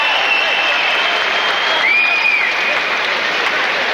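A boxing crowd at a Lennox Lewis fight in London reacts with a sustained, loud wash of crowd noise that never lets up. A faint rising whistle cuts through partway.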